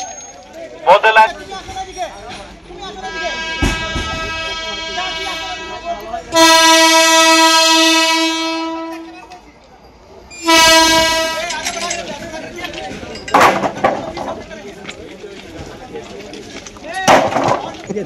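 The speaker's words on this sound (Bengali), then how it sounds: "মধ্যে লাইনে ট্রেন আসছে" A train horn sounds on an approaching train near Tarapith Road station, with two long, loud blasts over a busy platform; a voice-over and crowd noise run beneath and between the blasts.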